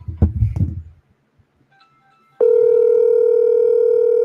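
A telephone tone sounds steadily and loudly after a brief burst of muffled voices and handling noise, holding one sustained electronic note until the end.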